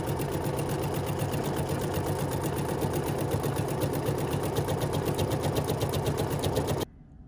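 A sewing machine stitches steadily while feeding fabric on its own, making a continuous close whir with a fast rhythmic ticking that runs unbroken for about seven seconds, then stops abruptly.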